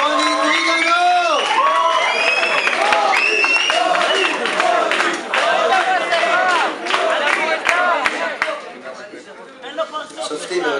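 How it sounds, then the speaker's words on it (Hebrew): A live audience cheers and applauds for Roni Trigano, a dense, sustained wash of clapping, whoops and shouting voices that thins slightly toward the end. "כפיים לרוני טריגנו!"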